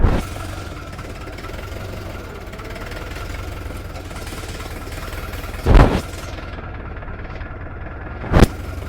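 A Scout TE504 mini tractor engine runs steadily while the machine drives in reverse, a close, even mechanical drone broken by two short, louder bursts near the end.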